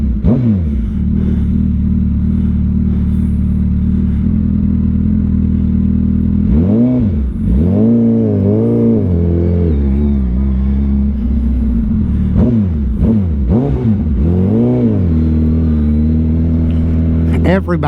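A 2024 Suzuki Hayabusa 25th Anniversary motorcycle heard while riding, its engine a steady low drone that rises and falls in several swooping revs, with wind rush and someone talking over it.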